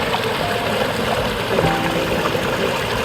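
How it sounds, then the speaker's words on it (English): A small waterfall in desert hiking country rushes and splashes loudly and continuously, close by with no voices. "Cool little waterfall here."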